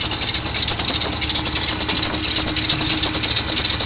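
A 1995 Ram van engine running with a loud noise, a steady idle churn with rattling and knocking texture, continuous and close throughout.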